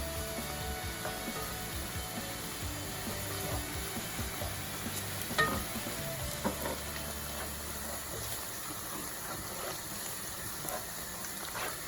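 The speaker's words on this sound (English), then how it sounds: "I'll add the fish powder now to the oil." Fish powder frying in hot oil in a pan after crunchy-cooked onions for Ghanaian red red, a steady dense sizzle filling the whole stretch with a few faint stirring clicks, close and continuous.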